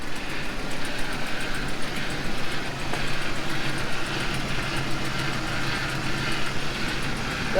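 A Ram 1500 Hemi engine with a bad exhaust leak idles steadily, a loud, continuous rumble with a rough, raspy edge that holds level throughout.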